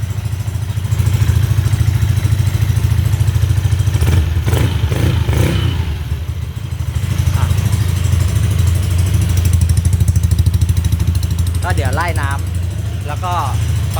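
A Yamaha NMAX scooter with a 62 mm bore kit, throttle-body air leak repaired, idles with a steady close, loud engine drone, with a brief rise in the middle and a few voices near the end.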